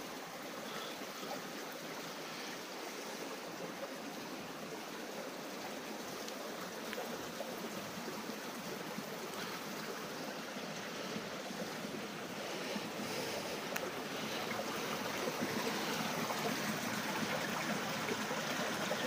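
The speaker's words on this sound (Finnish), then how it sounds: "kun vesi tulee suoraan alhaalta ylöspäin" Water wells up from below and flows steadily in a flooded quarry in Juuka. It makes a continuous, fairly quiet rushing wash, mixed with some wind, and no one speaks.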